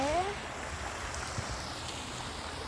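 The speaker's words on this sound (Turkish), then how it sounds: "Şelaleyi çok sevdim. Sesi çok güzel." A waterfall in Kayalar Park sends up a steady, even rush of falling water, continuous and moderately distant, with a brief high whistle at the start.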